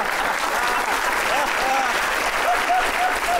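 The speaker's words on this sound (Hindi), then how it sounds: "देर तक ताली बजाना जोर से" Audience at a comedic poetry gathering applauding loudly, a dense, continuous roar of clapping with faint voices and whistles riding over it.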